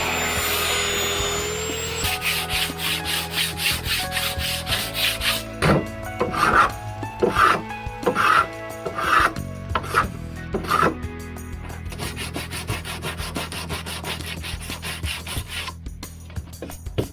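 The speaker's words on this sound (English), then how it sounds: "I decided to use a belt sander to finish off the final shaping." A belt sander shapes a wooden tiller cut from an old doorframe, giving a steady close abrasive rubbing with a rhythmic series of scraping strokes in the middle and no voices.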